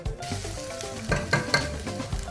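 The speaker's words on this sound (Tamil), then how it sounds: "இது பச்சை வாடை போகிற வரைக்கும் நல்லா வதங்கட்டும்" Onion with ginger-garlic paste sautés in a pan for chicken kuruma, a soft steady sizzle with a few scraping stirs of a utensil near the end.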